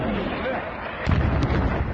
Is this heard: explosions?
yes